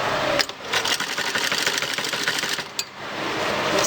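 A sewing machine stitches a trouser, a fast steady rattling hum running nearly continuously with a couple of brief stops, close and alone without talk.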